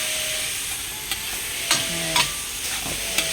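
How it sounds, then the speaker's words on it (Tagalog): Smoked meat sautéed with garlic and onion for a green bean dish, a steady frying sizzle with a few scraping stirs and clinks of a utensil against the pan, no talking. "Yung smoked meat yan, gisa-gisa. Bawang sibuyas, yung smoked meat mo"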